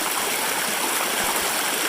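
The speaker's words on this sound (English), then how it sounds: "looks like we got a water ford" Flowing water at a trail ford on the Appalachian Trail makes a steady broadband rush, close and continuous, with no voices.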